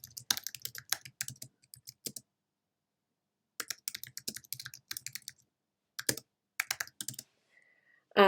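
Fingers type on a computer keyboard while a one-page WordPress website is being built, in several quick clattering bursts separated by silent pauses, close and fairly quiet, with no talking.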